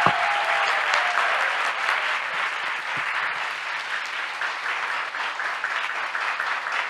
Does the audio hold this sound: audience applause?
yes